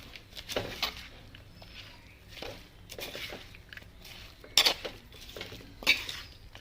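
Prawn and mango curry being mixed in a pot, with close metal spoon scrapes and clinks against the vessel in irregular bursts over a faint simmer, no voices.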